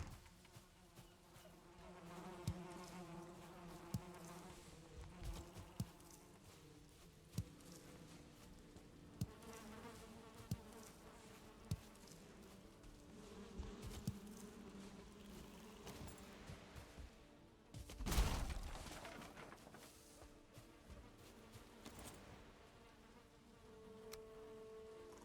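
Bees in a video game buzz as a steady drone throughout, with soft repeated ticks and one louder burst partway through, no talking.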